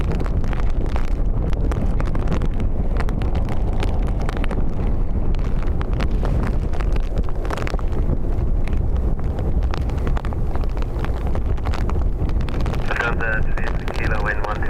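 Strong gusts at Dublin Airport batter the microphone in a constant, loud roaring rumble, with talk running underneath and a faint aircraft tone near the end.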